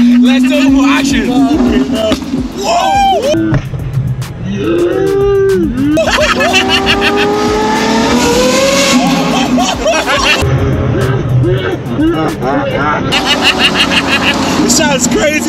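A Lamborghini SVJ Roadster with a straight-piped exhaust accelerates, its engine note climbing in rising sweeps amid loud excited voices and crowd chatter.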